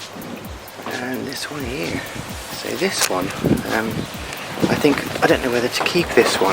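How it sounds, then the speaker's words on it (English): Wind buffets a microphone outdoors, producing steady rumbling noise throughout while someone talks over it. "Sorry about the wind."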